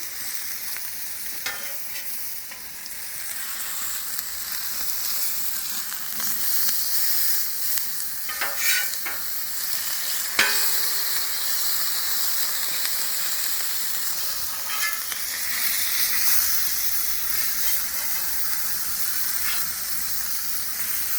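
An egg sizzles and crackles steadily in a hot frying pan, a continuous close hiss with scattered sharper pops and spits, no voices over it.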